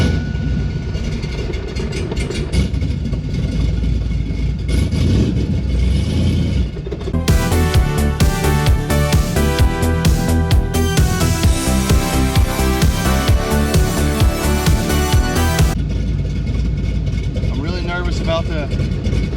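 A Pontiac Trans Am's engine runs loud and close, with a deep rumble that steps up into a sharper, busy revving drone in the middle stretch before settling back down as the car drives off.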